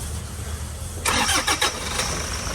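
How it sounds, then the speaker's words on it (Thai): A van engine cranks briefly with a few starter whirs, then catches and settles into a steady idle, close by. "เดี๋ยวไปดูเครื่องกันนะคะ สภาพเครื่องเสียงเครื่องจะเป็นยังไงนะคะ"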